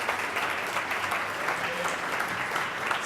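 A conference audience claps steadily, a dense and even wash of applause that holds at one level throughout.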